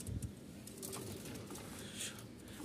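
Pigeons at a pigeon shop in Mirpur give soft, low cooing calls, faint and somewhat distant, with a few brief rustles and a light background hum; no one speaks.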